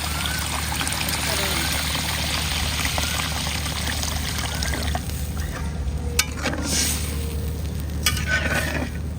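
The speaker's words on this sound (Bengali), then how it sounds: "এখন আমি পানি দিচ্ছি।" Water poured into a pan of sizzling ground spices (cumin paste, turmeric, chili) for a Rangpur sholka dish, a close hiss and bubbling sizzle that settles as the liquid goes in, with brief stirring and a voice talking over it.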